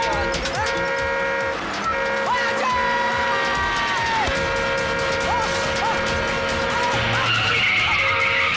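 Car tires squeal and skid as the vehicle drives tilted on two wheels, with a loud sustained screech that wavers in pitch over a running engine, ending in rougher scraping.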